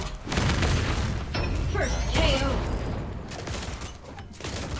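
Weapon fire from War Machine in the mobile game Marvel Super War, a dense run of booming, rattling shots that keeps going for several seconds, with mechanical clanks and effects mixed in.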